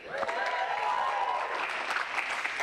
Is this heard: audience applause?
yes